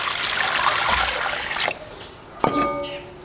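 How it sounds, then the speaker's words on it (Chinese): Running water from a tap splashes steadily while vegetables are washed in a kitchen, then cuts off, followed by a short clatter and ringing tone. "先洗一块菜。"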